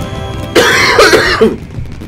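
A single harsh cough, close and loud, lasting about a second with a rough throaty burst.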